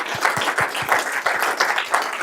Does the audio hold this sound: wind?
no